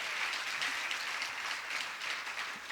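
An audience claps at a Ram Katha religious discourse. The applause is a soft, even patter that carries on for the whole stretch, faint and a little distant, with no voices above it.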